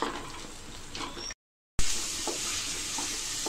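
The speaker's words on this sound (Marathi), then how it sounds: "आता हा मसाला आपण व्यवस्थित असा थोडा तेल सुटेपर्यंत परतून घेऊया" Chole masala sizzles steadily in hot oil as it is sautéed for Punjabi-style chole, a continuous frying hiss broken by a brief gap, with faint stirring scrapes.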